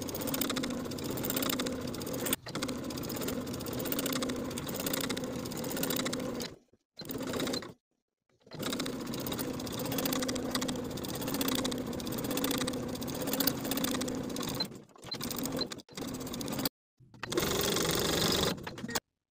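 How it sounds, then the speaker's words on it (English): A sewing machine edge-stitching along the bottom hem of a shirt, a fast, close, even mechanical whir running in long bursts broken by short stops. "I'm going to sew along the bottom edge from one edge of the placket"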